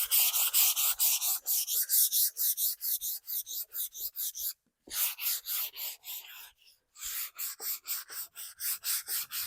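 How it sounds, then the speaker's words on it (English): Hand sanding painted wood wall decor with 220-grit sandpaper: steady, rhythmic back-and-forth scratchy strokes, close and fairly loud, with two brief pauses midway. "I'm going to take some 220 sandpaper and then just go over it"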